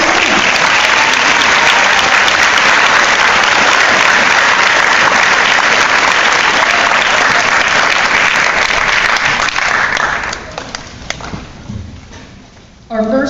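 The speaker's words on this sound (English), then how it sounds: "So how about a big round of applause for the students?" Loud sustained audience applause at a school spring concert for first-year band students, a dense clapping wash that dies away near the end with a few scattered claps.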